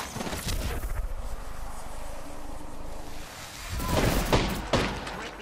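Gunfire in the video game Apex Legends, with rapid bursts of shots against a constant rushing wind-like background, growing louder and more clustered toward the end.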